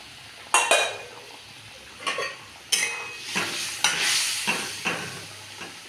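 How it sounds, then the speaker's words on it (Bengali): Pieces of fish dropped into a thin, boiling Bengali fish curry in a pot, giving several separate splashing clatters with faint bubbling and a spoon scraping against the pot between them. "এবার আমি মাছগুলোকে দিয়ে দিচ্ছি"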